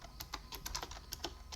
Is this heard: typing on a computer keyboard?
yes